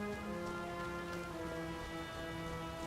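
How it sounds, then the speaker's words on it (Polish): Rushing water in the Sniper Elite 5 video game, a dense, steady roar with a continuous tonal hum layered underneath, constant and fairly loud for the whole stretch. "Szum tej wody można wykorzystać, żeby zagłuszyć e, strzał."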